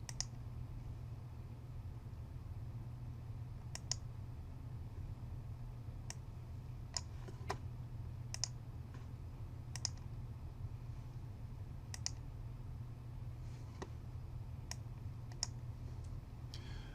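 A computer mouse clicking a button on a web page, about a dozen crisp, isolated clicks spaced irregularly over a low steady hum, with no talk.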